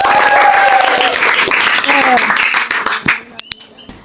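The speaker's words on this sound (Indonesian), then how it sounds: "terima kasih Arjun, tepuk tangan untuk Arjun" Elementary classroom of children clapping for a student, a loud burst of applause mixed with young voices that thins out into a few scattered claps.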